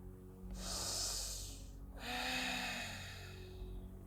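A deep nasal inhale during a yoga sun salutation, a long breathy rush of air followed after a brief pause by a second, slightly softer breath, close and clear over a low hum.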